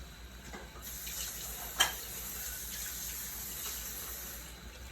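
Water from a tap running steadily at moderate level, a continuous gentle flow with one brief clunk partway through, in a home kitchen while making hot dogs and gravy.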